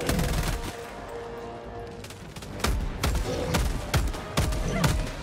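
Gunfire in the video game Helldivers 2: repeated sharp shots and short bursts, louder in the second half, with no talk.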